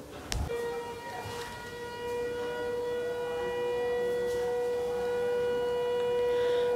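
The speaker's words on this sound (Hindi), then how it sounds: "सो सायरन बज गया" A Ramadan siren marking the end of the pre-dawn meal wails on one steady, sustained tone, swelling slightly louder as it continues with no voices.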